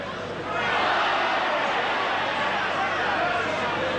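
Rugby league crowd at a Hull KR versus Australia match reacting to a penalty, a broad roar of many voices that swells and holds steady, with commentary in the background.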